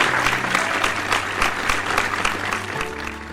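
Audience applause rings out steadily as a guest is welcomed onto the stage at a Tamil speech event honouring Dr. APJ Abdul Kalam, dense clapping sustained for a few seconds with a low hum beneath.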